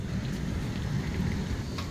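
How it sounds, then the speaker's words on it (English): Heavy rain pours steadily outside a house during a storm, a dense, constant roar with no voices. "It's raining. Can you see? So hard."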